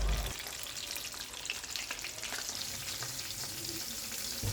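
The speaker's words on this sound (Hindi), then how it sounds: "और अब मैं ये समोसा फ्राई कर रही हूँ।" Samosas deep frying in hot oil for an Iftar meal give a steady, close, loud bubbling crackle that runs unbroken from start to finish, with no voices.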